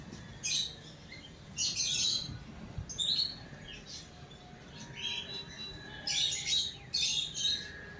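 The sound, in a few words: various birds chirping at hotel waterfall, Udaipur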